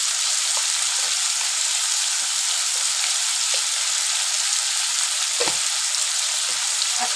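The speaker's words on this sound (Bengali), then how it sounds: "আলু যতক্ষণ ভাজা হচ্ছে" Potatoes fry in a hot pan of oil for a pumpkin chokka. A loud, steady sizzle carries throughout, with occasional small pops and crackles and no talking.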